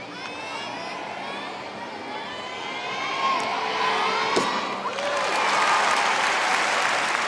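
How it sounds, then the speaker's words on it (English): Crowd applause at a women's beam event of a gymnastics World Cup in Paris, sustained clapping and cheering from a large arena that swells louder midway, with a commentator talking over it. "Very nice from Georgia May Fenton, and you get a sense of the crowd here with a British athlete following on from a French"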